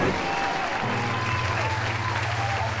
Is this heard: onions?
no